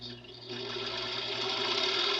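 A Brother 1034D serger runs continuously at close range after threading, with a steady, even mechanical whir that builds slightly after its first half second.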